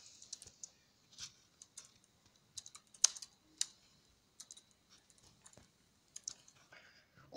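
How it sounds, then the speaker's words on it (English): Someone types on a computer keyboard in uneven bursts of soft clicks and taps, with brief pauses between runs, quiet and close. "how the hell are you even typing wrong? And you're typing so freaking slow."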